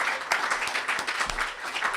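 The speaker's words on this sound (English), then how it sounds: "I would like to give a round of applause to all the poets and photographers that are here tonight" Audience applause at an evening poetry and photography event, a short burst of steady, fairly close clapping from a modest crowd.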